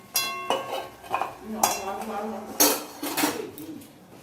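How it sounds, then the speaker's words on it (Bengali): A metal pot lid clanks and scrapes onto a cooking pot, with several sharp clinks and rattles at close range, followed by the click of a gas burner being turned off. "ঢেকে দেবে আর গ্যাসটা নিভিয়ে দিচ্ছে"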